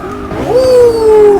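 Tires squeal loudly in Forza Motorsport 6 as a powerful car with stock brakes slides sideways while drifting, a rising then sustained high-pitched screech lasting about a second.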